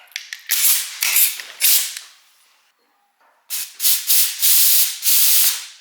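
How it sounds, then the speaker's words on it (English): Compressed air from a shop air hose blasting through the fuel tank sending unit of a 1963 Dodge D100 pickup, loud hissing bursts in repeated pulses, a brief quiet gap, then more sustained blasts close by. "Let's grab the air hose, pull it over here, and we'll try to blow through this."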